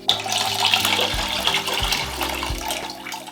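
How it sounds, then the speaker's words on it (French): Tap water runs steadily to rinse out a pot while making coq au vin, with a few low thumps and clunks of the pot being handled under the flow. "Un peu d'eau, on rince,"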